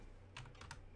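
A single computer keyboard key tapped during a goat-hunting game, a couple of quick, light clicks close by with no voice.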